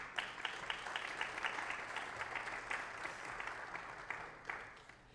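Audience applause at a college student government debate event, faint and steady clapping from a room of people that fades slightly toward the end.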